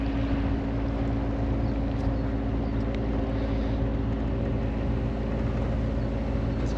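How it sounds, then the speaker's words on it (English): Steady, continuous drone of a cruising boat engine on the Norfolk Broads heading towards Stokesby, loud and close throughout with a constant low hum and no talk. "apart from the noise of the engine"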